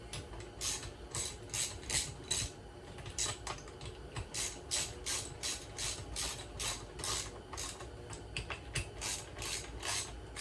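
Lug nuts on a Trx250r front wheel being tightened in a crisscross pattern with a ratchet, a quick, steady run of close clicking strokes, fairly quiet and continuous with no talking.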